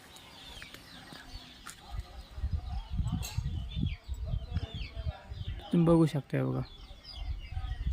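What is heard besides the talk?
chickens clucking on a farm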